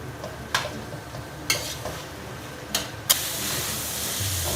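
Minced pork frying and sizzling in a pan while being stirred and tossed, with a few sharp scraping hits and a steady hiss that swells louder toward the end.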